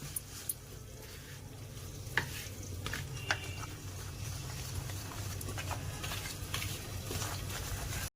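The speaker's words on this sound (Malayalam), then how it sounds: "ആദ്യം നമുക്ക് ഇതെല്ലാം കൂടെ ഒന്ന് മിക്സ് ചെയ്യാം." Ingredients are mixed together, soft scraping and stirring sounds over a low steady hiss, faint and close with occasional light knocks, no talking.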